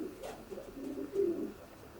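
A checker cock racing pigeon, a long-distance racer, coos in its loft in a short low warbling burst that swells about midway and then trails off. It sounds close and moderately loud, with no talk over it.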